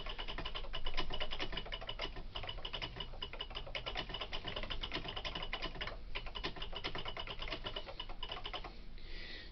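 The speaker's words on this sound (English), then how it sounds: "We can do a keyboard test." A vintage computer keyboard is typed on rapidly and continuously while the machine sits in its memo pad with no disk drive attached, producing a dense, steady clatter of keystrokes close up throughout, with no one talking.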